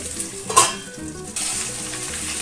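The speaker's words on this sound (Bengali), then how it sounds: "এদিকে আমি পটল আলুটা ভালো করে ভেজে নেব" Pointed gourd and potato fry in a pan with a steady, close sizzle, broken by a brief clatter of stirring partway through. No one speaks.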